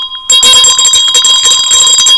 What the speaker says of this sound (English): Who chose this bell?